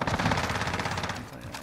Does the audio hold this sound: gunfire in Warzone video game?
yes